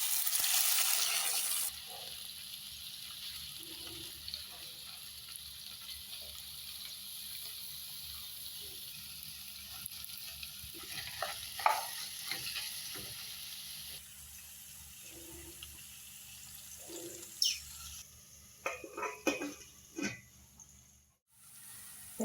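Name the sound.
okra frying in coconut oil in a pan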